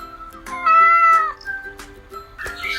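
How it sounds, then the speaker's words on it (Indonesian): A domestic cat meows several times in a row, close and clear, with drawn-out, wavering calls and brief pauses between them. "suara kucing"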